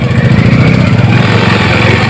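A motorcycle engine idles steadily and loudly up close while the bike is being parked at a market, a continuous low rumble with no talk over it.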